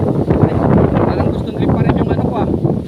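Strong wind gusting over a mountain trail during a hike, a loud continuous roar buffeting the microphone throughout, with brief rustling of vegetation mixed in.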